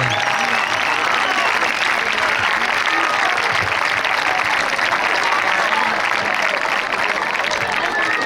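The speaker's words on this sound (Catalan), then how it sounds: "un fort aplaudiment per a ell" Crowd applause at a football club presentation, dense continuous clapping holding steady and loud throughout, with some voices mixed in.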